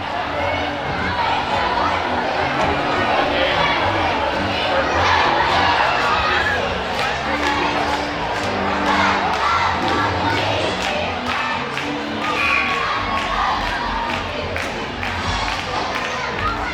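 Crowd in a gym at a varsity high school basketball consolation game, a constant murmur of chatter and shouts with scattered cheers and calls rising over it, busy and fairly close throughout.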